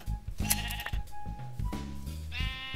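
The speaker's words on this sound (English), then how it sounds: "And there's sheep here." Sheep bleating in a video game, with several close, loud, drawn-out calls in a row and no talk over them.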